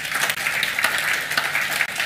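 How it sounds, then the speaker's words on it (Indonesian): A church congregation applauds for Jesus during a sermon, with a continuous wash of many hands clapping at moderate loudness, close and unbroken for about two seconds. "Tepuk tangan buat Tuhan Yesus."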